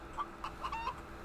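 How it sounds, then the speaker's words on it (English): A rooster in the survival video game The Infected gives a few short clucking calls in quick succession, faint and somewhat distant, with no talking over them. "That's a rooster."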